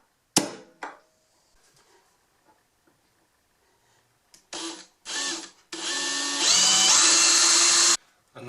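A power drill drives screws into a wooden drawer for a root vegetable bin: a loud sharp knock, then short bursts of motor whine and a longer sustained driving run that rises in pitch, all close by with quiet gaps between.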